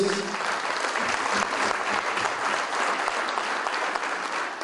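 A congress audience in a closing session breaks into steady, dense applause, many hands clapping together at an even level throughout, with no speech over it.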